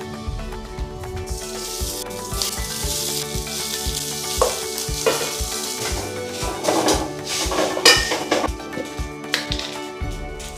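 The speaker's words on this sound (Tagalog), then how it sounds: "iprito lang natin yung ating bawang" Garlic sizzles steadily in a new frying pan, a broad hiss of hot oil with occasional louder crackles and scraping stirs near the end, no voices present.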